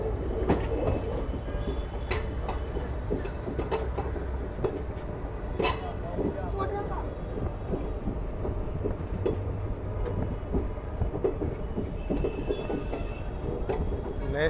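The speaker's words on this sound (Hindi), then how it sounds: "यहाँ पे ट्रेन आ चुकी है अभी नोखा रेलवे स्टेशन में।" The Jammu Jodhpur express at Nokha railway station makes a continuous rumble with wheel clatter and scattered clanks, steady and fairly close throughout, with faint voices around it.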